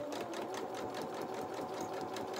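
A sewing machine running a 2.2 straight stitch on dress construction, a steady rapid whirring rattle heard up close without a break.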